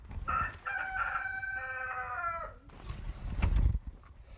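A rooster crows once, loud and close, its call drawn out for about two seconds, followed by rustling and scuffling nearby.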